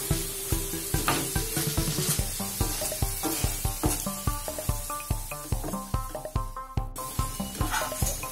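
Potato chips being stirred with masala in a pan, with a regular rhythm of scraping, clattering strokes over a faint sizzle, loud and close, without speech.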